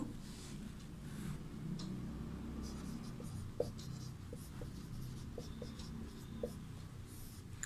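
Chalk or pen writing out a table of Sanskrit verb forms in a classroom lesson, steady scratchy strokes with small taps between words, continuing under a low background hum.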